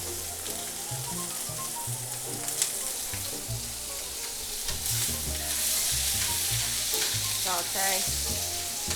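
Onions sizzle and fry steadily in melted butter in a pan, a dense continuous crackle with occasional stirring scrapes and clinks, close and loud throughout with some background tones.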